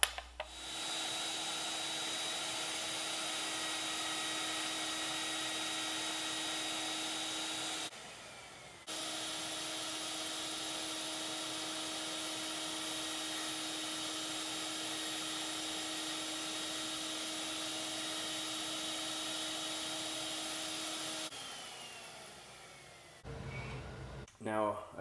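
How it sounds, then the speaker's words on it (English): A drill press spins a T-slot router bit as it trims the top of a wooden ring, giving a steady high whine with a hum underneath. It drops out briefly near the start, then winds down and stops with a few knocks. "I have to lower my drill press, and I'm going to use this T-slot bit to trim down the top portion"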